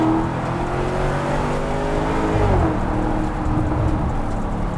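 Lamborghini Urus Performante engine pulling through the revs, a loud continuous roar with rising and falling engine tones under road and wind noise, no talking.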